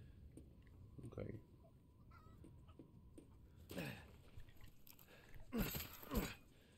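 Chicken clucking in the video game Resident Evil Village, several loud squawking bursts near the end over quieter game ambience, with scattered soft clucks earlier.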